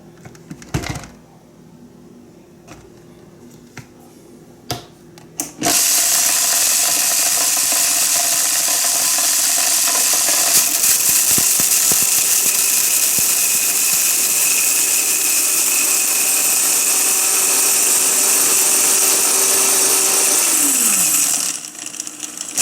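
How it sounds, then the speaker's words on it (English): An electric grain mill grinding corn into cornmeal starts abruptly after quiet, small clicking handling sounds, then runs as a loud, steady whirring roar for over fifteen seconds before winding down near the end. "so you can see the short amount of time it takes to grind the corn"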